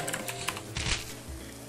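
Quick typing on a computer keyboard during a restaurant cooking game, a short run of light clicks and taps close up with no talk.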